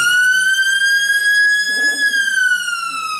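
A loud wailing siren rises and falls in a smooth sweep, close and dominant, with a faint murmur of a voice beneath it.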